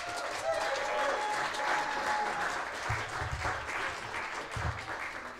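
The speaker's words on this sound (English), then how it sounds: "Let's hear it for Pam" An audience applauds a vocalist at a live performance, a dense, sustained wash of clapping from a crowd heard at a distance, with faint voices mixed in.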